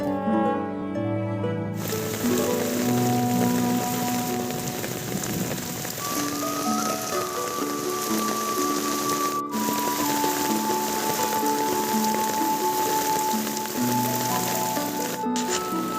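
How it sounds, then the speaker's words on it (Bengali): Steady rain falls outdoors in a gentle drizzle, a continuous soft patter heard beneath prominent music that plays throughout. "টপর টপর বৃষ্টি নামতেছে"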